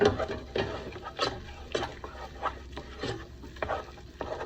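Zeppole dough is mixed with eggs added one at a time, giving soft, wet, rhythmic slapping strokes about every half second, close and fairly quiet.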